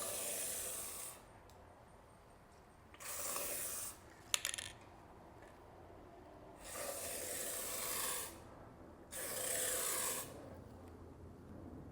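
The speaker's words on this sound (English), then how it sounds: "now we'll see how this tip actually sprays" Spray tip misting onto a frame-damaged BMW F30, heard as four separate hissing bursts of a few seconds each, close and fairly loud, with quiet gaps between them.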